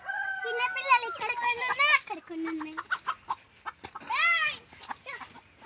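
Chickens and young chicks in a village yard cluck and call in a busy, overlapping run, with children's voices chattering close by throughout.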